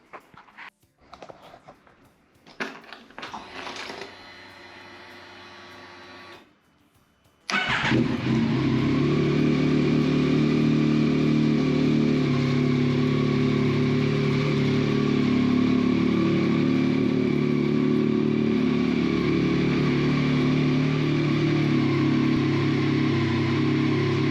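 After a few seconds of sputtering cranking, a 2021 Yamaha MT-09 motorcycle engine cold starts and settles into a loud, steady idle that runs on unbroken.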